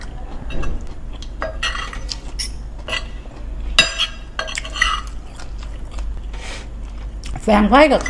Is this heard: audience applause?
no